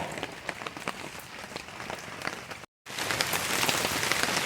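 Heavy rain during a rainstorm on a bluff in Kalau, pattering steadily and densely on surfaces nearby, with a brief cut partway through before the downpour continues just as strong.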